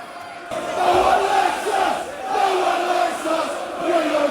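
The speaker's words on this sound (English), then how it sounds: "The fans that were booing are now cheering." Football crowd at a Millwall home match against Huddersfield Town roaring and cheering a goal, a sustained mass of chanting voices that swells and falls in waves, loud and close throughout after a brief quieter opening.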